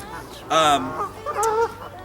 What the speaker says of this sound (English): They're like geese and swans everywhere.